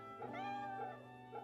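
A cat in Fate/Samurai Remnant gives a soft, drawn-out meow followed by a second shorter mew, faint and close, with no talking.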